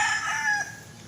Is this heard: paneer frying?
no